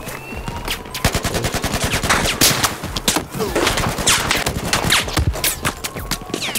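Rapid automatic gunfire in Battlefield 4 on Xbox One, loud close bursts of shots in fast rhythmic volleys almost without pause, with scattered footsteps and scrapes underneath.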